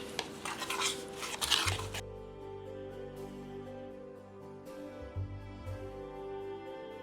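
Spoon stirring pumpkin mug cake batter in a ramekin, with scraping and clinking against the dish, busier at first and then settling into quieter stirring over a steady background hum.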